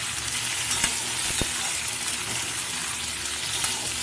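Potatoes fry in a pan for khichuri with kosha aloor dom, giving a steady, dense sizzle that runs throughout with a couple of brief sharp clicks and no talking.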